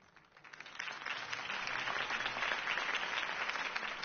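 Crowd applause at a campaign rally in the video game Batman: The Telltale Series, swelling quickly from quiet into steady, dense clapping that holds evenly to the end.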